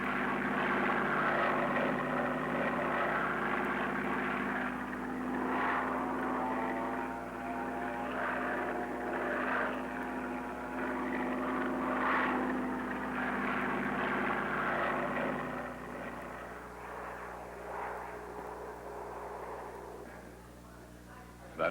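A propeller training aircraft drones steadily overhead on an early solo flight around 1970, with a low, even hum that fades slightly near the end. A voice speaks faintly underneath.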